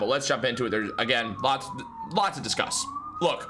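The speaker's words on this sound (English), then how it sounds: "as you can hear the sirens outside" Emergency sirens wailing outside, rising and falling tones faintly under someone talking close up indoors.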